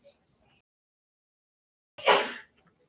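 A single short, sharp sneeze bursts out about two seconds in, loud and close, after near silence with only faint background noise around it.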